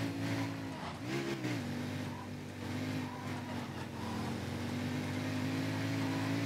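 A Mercedes-Benz E-Class racing in the World Racing video game, its engine droning steadily with a pitch dip and climb as it shifts and accelerates, and faint tire noise underneath.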